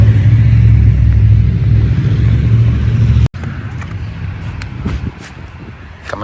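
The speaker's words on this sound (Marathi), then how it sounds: "ही गाडी स्नो काढते" A snow removal vehicle rumbles past on a snowy road during a snowfall, a loud low engine drone that cuts out suddenly and gives way to quieter ambient noise with faint clicks.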